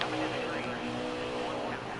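A race car engine droning steadily in NASCAR Heat 4, a constant loud high-revving hum with no breaks, with someone talking over it.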